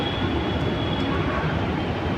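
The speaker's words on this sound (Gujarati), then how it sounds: "મેટ્રો ટ્રેનમાં એકવાર આપણે સફર કરી લીધી છે અમદાવાદમાં અંડરગ્રાઉન્ડમાં" Steady low rumble of a metro train running through an underground tunnel in Ahmedabad, a constant broadband roar with a faint high whine, continuous throughout.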